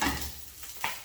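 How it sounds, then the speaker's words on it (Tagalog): Eggplant fries in olive oil, a soft sizzle with a couple of quick stirring scrapes, quiet and brief. "Prito ko na po yung talong."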